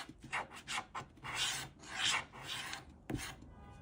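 A Mega Goal scratch card being scratched with a coin or fingernail: several short rasping strokes in bursts, then a few longer scrapes, close and fairly faint.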